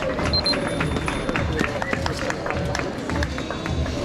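Outdoor crowd at an evening bike gathering in a street in Ferrara, with dense clapping blended into chatter and hubbub, steady and moderately loud throughout, voices mixed in.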